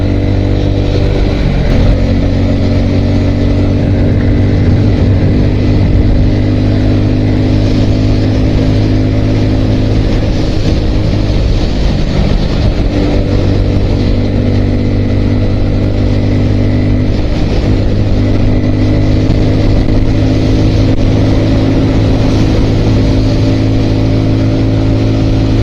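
A motorcycle cruises steadily at about 100 km/h on the NH 307 highway, its engine drone loud and constant with heavy wind rush throughout and no break in the sound.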